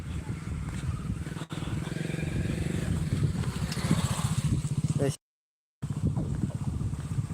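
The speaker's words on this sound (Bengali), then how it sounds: "একটা বাইক বাইক আসলো" A motorbike comes along a road near a river bridge under construction, its engine a steady, close, low throbbing drone that briefly drops out near the end.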